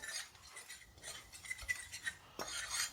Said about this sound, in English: Give it a stir around just to